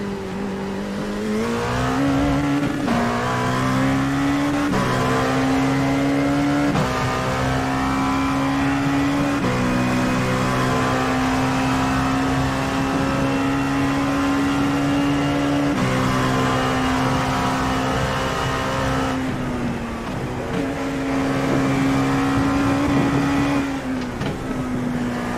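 An LMP2 prototype race car at Mosport (Canadian Tire Motosports Park) roars steadily at high revs, its engine note droning loud and continuous with brief dips and rises as it shifts through gears around the circuit.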